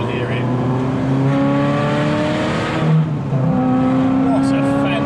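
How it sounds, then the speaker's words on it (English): A Ferrari F355 fitted with a sports exhaust drives slowly through traffic, its engine giving a steady, rich harmonic drone that swells slightly midway, heard beneath someone talking. "Everybody loves the 355 with the sports exhaust"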